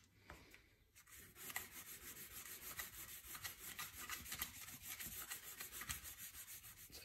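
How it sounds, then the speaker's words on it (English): 600 grit sandpaper rubs over a waterslide decal on a guitar headstock, making a steady, close, raspy scratching of rapid back-and-forth strokes that runs without a break. "So now I'm going to sand with 600 and get this decal level with the surface."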